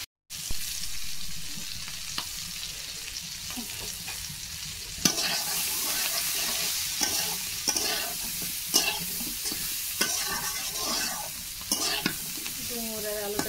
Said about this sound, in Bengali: ডুমুর আর আলুটা কিন্তু আমি ভালোভাবে কষিয়ে নিচ্ছি।